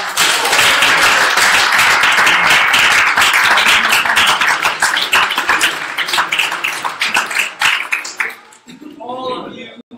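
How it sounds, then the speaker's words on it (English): A crowd at a startup competition event applauds with dense, sustained clapping that thins into scattered claps and fades, with a voice speaking as it dies out. "You can give yourself a round of applause."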